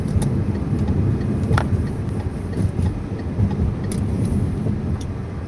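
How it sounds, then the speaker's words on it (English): Lamborghini SUV passing on a road, a steady broadband car roar with faint wind noise and no clear talking. "Oh, there's a Lamborghini, whatchamacallit, SUV"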